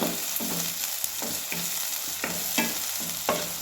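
Okra with chopped tomato and onion fries in a pan under a constant close sizzle, punctuated by a rhythmic series of stirring scrapes roughly every half second, with no voices.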